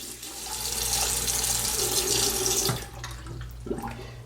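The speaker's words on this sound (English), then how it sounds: "First I'm going to wash my hands." Tap water runs steadily into a bathroom sink while hands are washed before a face rinse; a close, continuous splashing rush that cuts off near the end, leaving a few faint drips and handling sounds.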